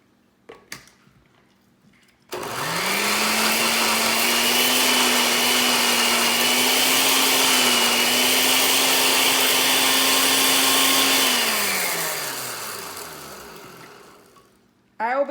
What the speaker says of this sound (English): you can see that it's blending